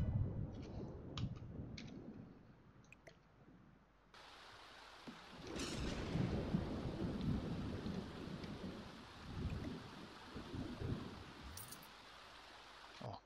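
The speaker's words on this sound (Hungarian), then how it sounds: "És becsapott a villám." A lightning strike and thunderstorm in The Sims 4: a rumble of thunder, then a sudden loud crack that opens into steady hissing rain with deep rolling thunder beneath, close and enveloping, with no voices.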